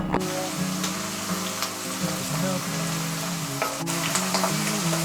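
Bay leaf (tejpata) frying in hot oil on a low flame for a Manipuri country chicken masala fry, a steady loud sizzle with faint crackle throughout, no voices.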